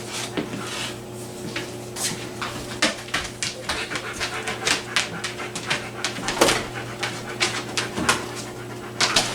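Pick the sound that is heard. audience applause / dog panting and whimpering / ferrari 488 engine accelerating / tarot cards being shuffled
dog panting and whimpering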